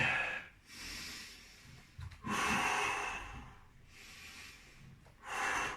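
Breath pushed out hard through the mouth during a shoulder-rolling warm-up, several strong exhalations in a steady rhythm, close and fairly loud with no talk.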